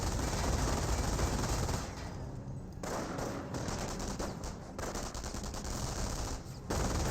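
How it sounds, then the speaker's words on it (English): MG42 machine gun bursts in Company of Heroes, dense rattling fire in sustained stretches broken by short pauses, loud and close amid the battle noise. "MG42 is setting him up, trying to get a good burst there on the rifleman"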